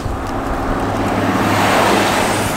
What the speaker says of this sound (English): Here come a car behind me, I hear it.